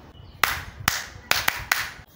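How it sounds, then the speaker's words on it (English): Classroom students clap for a classmate who answered a question: a handful of short, sharp, unison claps at roughly even intervals, fairly quiet, over a soft room hush. "Clap for him."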